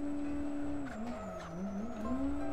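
Car drifting in a video drift game, a steady engine drone with a sliding tyre squeal that bends down and back up as the car swings through a small section, close and continuous with no talk.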